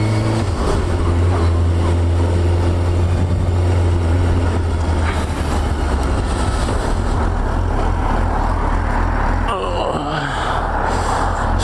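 A Suzuki GSXR600 motorcycle being ridden, a steady loud engine drone with rushing wind noise throughout, the engine note shifting near the end.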